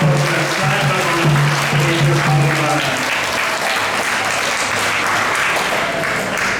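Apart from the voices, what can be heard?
audience applause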